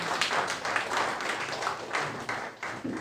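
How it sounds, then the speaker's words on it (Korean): An audience at a political academy lecture applauds to welcome a lecturer, a steady, dense patter of many hands clapping together at moderate volume, with no talk over it. "큰 박수로 맞아주시기 바랍니다"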